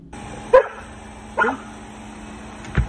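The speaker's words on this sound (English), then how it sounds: "What you barking at, bud?" A dog gives a few sharp barks spaced apart, fairly close, with a quiet pause between each.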